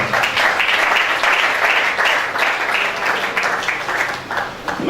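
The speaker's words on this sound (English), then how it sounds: "May we give Little Horn Africa a round of applause" Audience applause for Little Horn Africa at an asthma and respiratory disease awareness workshop, a steady dense round of clapping that holds strong for the whole stretch with no talk over it.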